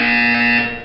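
A steady electronic buzzer tone from the Portal 2 test chamber sounds alone, loud and continuous for just under a second before tailing off.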